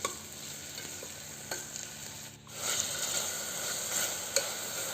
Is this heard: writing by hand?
no